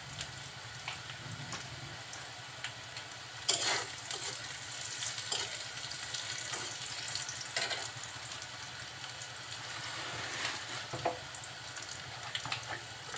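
Mixed winter vegetables with chopped onion and garlic fry in a pan, giving a steady close sizzle with occasional stirring scrapes and small sputters throughout.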